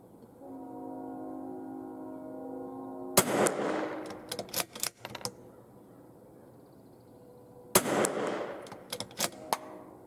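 A rifle fires two sharp, loud shots outdoors while a scope is tested at 50 yards. The shots are several seconds apart, each followed by a short, rattling echo tail over a quiet background hum.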